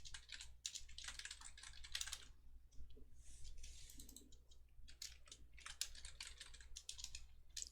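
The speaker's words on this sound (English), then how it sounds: "If I can type." Quiet, rapid typing on a computer keyboard while someone works on a C++ programming exercise. Bursts of soft key clicks come in uneven clusters with short pauses over a low steady hum.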